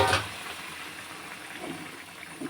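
Boiled water is poured into a pot of fried rice and lentils with sugar. A splashy rush starts strongly, then fades into a softer, steady liquid hiss with small gurgles.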